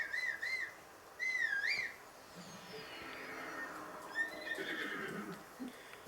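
A horse in Zelda Breath of the Wild whinnies twice in quick succession, clear and fairly close, followed by softer hoof clip-clops and a fainter whinny over quiet outdoor ambience.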